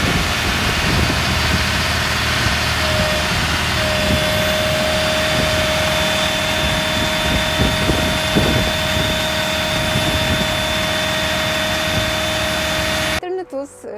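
Aupax 5130 tractor engine labouring steadily and loudly on a rear-hitch dynamometer pull, a continuous droning roar with a sustained whine, cutting off abruptly near the end.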